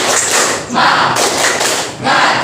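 A Grade 7B class performs the tepuk semangat spirit clap in a classroom, with loud group clapping in bursts of rhythmic thuds and short pauses between.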